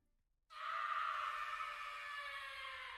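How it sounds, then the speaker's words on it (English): A stock horror scream sound effect: after half a second of silence a loud, sustained, strained cry begins and holds at steady strength for about two and a half seconds, fading only slightly at the end. "It's called Scary Scream Sound Effects HD."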